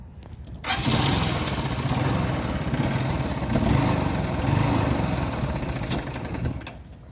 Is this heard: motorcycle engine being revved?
yes